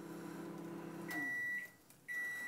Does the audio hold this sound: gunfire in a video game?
no